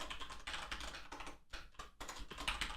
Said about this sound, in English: you can hear the keyboard and everything